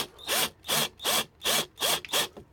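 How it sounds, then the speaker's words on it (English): Six evenly spaced rasping strokes from a screwdriver turning screws on an Escort Mk3 heater matrix, each a short burst with a brief pause between, close and fairly quiet. "So just gonna do these screws up"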